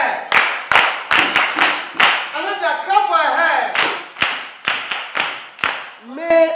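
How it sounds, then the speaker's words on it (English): Sharp, uneven bursts of hand clapping from a small group ring out nearby for a student, with a few brief voices mixed in between the claps. "Hey, clap for her."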